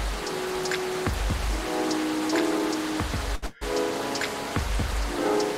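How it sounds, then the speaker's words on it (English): Steady rain falls on a surface, a dense continuous patter with scattered drip-like taps, fairly loud and close, with a brief dropout midway and no talking. "Not gonna lie, that rain is relaxing though."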